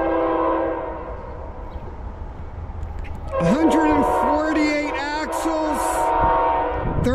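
A slow freight train with a Norfolk Southern locomotive and an orange 2012 BNSF GE ES44 rumbles steadily nearby, then a loud multi-tone horn sounds in several long blasts over the continuing rail noise.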